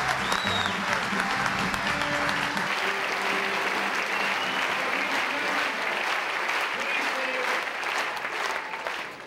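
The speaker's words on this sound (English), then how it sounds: "But keep applauding." Sustained applause from a large audience at a campaign fundraising luncheon for Senator Pete Wilson in Irvine, California, with scattered voices and cheers mixed into the steady clapping throughout.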